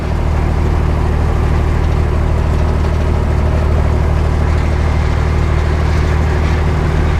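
The diesel engine of an M35A2 military truck idles cold at about 700 RPM, steady and loud nearby, a constant low rumble with a rhythmic chug and no other sounds.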